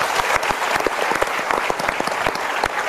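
A studio audience claps loudly to welcome a guest onto a motivational talk show, the dense applause steady and close, with some sharper individual claps standing out and no one talking.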